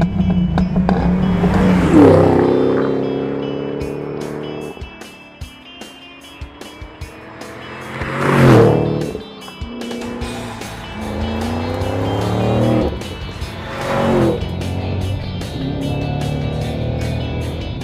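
A 2013 Shelby GT500 revs and accelerates hard, its engine note rising through several gear-like sweeps with tire squeal, loud and close, the surges peaking twice along the run.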